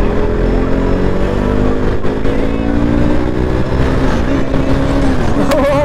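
A KTM RC390 motorcycle is ridden and accelerates, its engine a loud, close, continuous drone with rising pitch, heard from the rider's position with wind noise and no clear speech.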